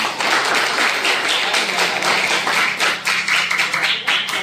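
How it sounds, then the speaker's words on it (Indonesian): Classroom applause as students clap together for their classmates, a short burst of brisk, close clapping that fades slightly toward the end. "Tepuk tangan untuk kalian."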